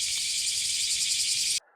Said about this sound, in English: crickets are quite loud. They're competing with my voice here.